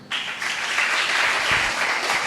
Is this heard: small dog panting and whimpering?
no